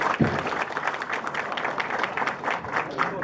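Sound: audience applause for the speaker

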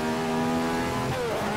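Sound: Ferrari 312/67 engine accelerating in the video game Assetto Corsa

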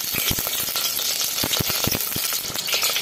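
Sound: whole spices frying in hot ghee

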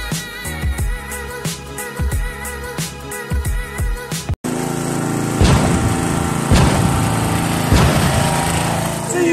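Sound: Honda GX340 engine running on golf cart

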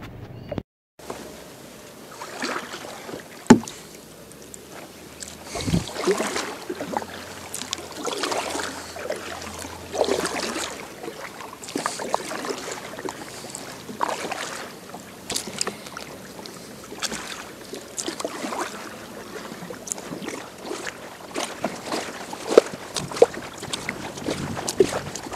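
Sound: kayak paddling on water

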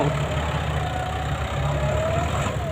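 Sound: GS 115 horsepower tractor engine grading ground

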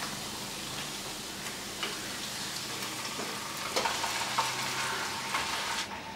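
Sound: bone-in chicken sizzling in pan with garlic and ginger

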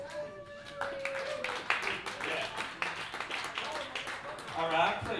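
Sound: audience applause

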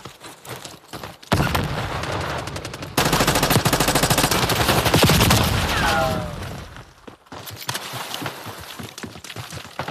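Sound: gunfire in video game Call of Duty: Black Ops 6

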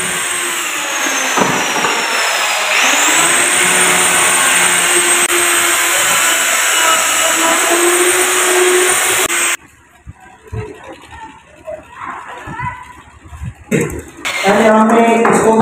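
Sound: grinder grinding wooden charpai bed frame

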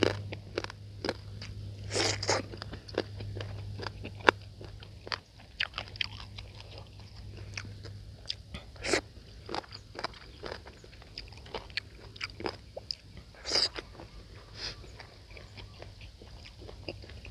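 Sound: chewing and crunching crispy fried squid

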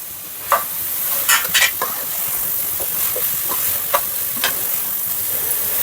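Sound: prawns and masala frying and stirring in a pan

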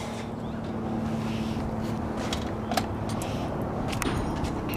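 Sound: turbo diesel engine of hot water trailer jetter starting

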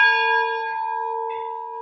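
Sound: lighthouse bell rung once

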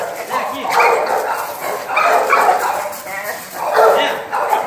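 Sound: dog barking and whimpering at a kennel

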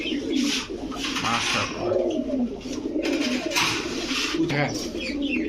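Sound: pigeons cooing

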